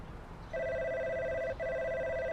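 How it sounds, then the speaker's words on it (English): A payphone on a shop counter rings in a video game town, a steady electronic bell tone that starts abruptly, holds for about a second, breaks briefly, then resumes, clear and close over quiet ambience with no talking. "The payphone on the counter suddenly rings."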